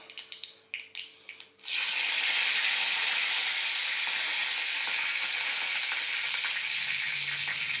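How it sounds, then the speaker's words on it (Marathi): Loud, steady sizzling of curry leaves dropped into hot oil, starting abruptly after a few short crackles and continuing without pause. "फोडणी उडालेली आहे, आता कढीपत्ता टाकून घेऊया."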